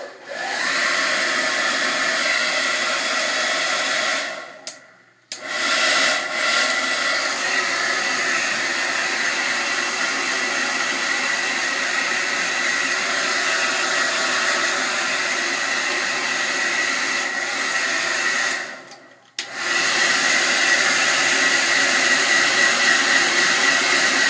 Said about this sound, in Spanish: Con cualquier secador que tengas, que no esté caliente.